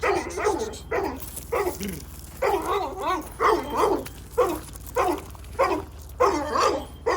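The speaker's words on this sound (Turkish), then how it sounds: "Korkuyorlar köpekten de. Köpek bağlı işte." A dog barks repeatedly in a steady run of sharp, close barks, some with a whiny edge, over low background hum.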